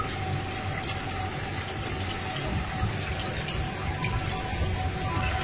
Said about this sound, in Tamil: மழை வெயிட்டா பெஞ்சிட்டு இருக்கு